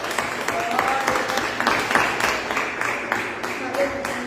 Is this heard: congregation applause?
yes